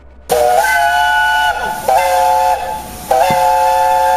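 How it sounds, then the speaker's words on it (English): A steam locomotive whistle gives three loud, close blasts with short gaps between them, each a bright multi-toned shriek over a constant hiss of steam, with no voices. "And so Arthur gave a blow of his whistle and rolled out the station."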